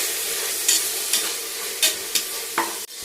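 Steady sizzling of dried red chillies and curry leaves frying in a hot pan, with several short scraping stirs at irregular intervals and no talking.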